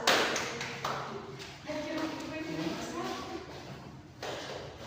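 Brief scattered clapping from a small classroom group after a student presentation, a few quick taps and claps mixed with room noise and voices.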